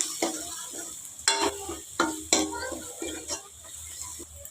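Masala of coriander powder and red chilli powder frying for a catering-style sweet corn capsicum gravy, with a steady sizzle and several sharp spoon scrapes and stirring strokes against the pan, close and alone.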